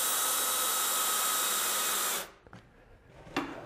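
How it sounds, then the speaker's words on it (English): A belt sander runs steadily on a board held against a simple stop on a workbench, a continuous loud whine that cuts off abruptly near the end, leaving faint knocks. "way to be able to sand with a belt sander is just to make yourself a simple stop"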